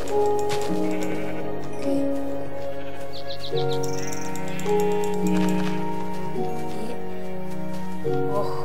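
Sheep bleat repeatedly in Minecraft with the Tekkit modpack, several wavering bleats over steady game music, fairly close and clear.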